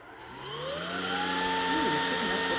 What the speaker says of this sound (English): go with this extremely affordable vacuum cleaner